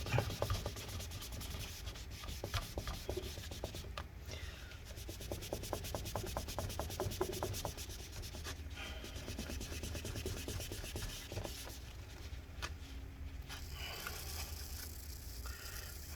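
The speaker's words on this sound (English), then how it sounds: "get some more rubbing alcohol, and continue cleaning. This takes a lot of elbow grease, just gotta work it." Rubbing alcohol on a cloth scrubs sticky adhesive residue off the case of a 2012 15-inch Retina MacBook Pro A1398, making steady close-up rubbing and squeaking strokes in quick back-and-forth rhythm.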